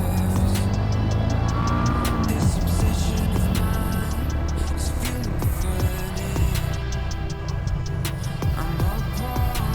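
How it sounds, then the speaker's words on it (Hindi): New TVS RTX 300 motorcycles on test pass by, their engines revving and roaring loud and close over steady road noise, with a couple of sharp whoops of acceleration along the way. "टीवीएस की नई बाइक RTX 300 उसकी टेस्टिंग चल रही है।"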